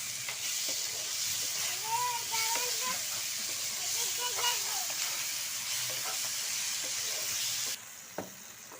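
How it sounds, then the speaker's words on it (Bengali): Katla fish masala with salt being stirred and sautéed in a pan gives a steady close sizzle and hiss, with scraping stir strokes throughout and a softer bump near the end. "পরিমাণ মতো লবণ মিলে একসাথে দিয়ে নেড়ে ছেড়ে ভালো করে কষাতে হবে"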